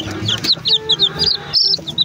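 A mother hen clucks in short repeated bursts, several quick calls in a row, close by with some rustling background noise.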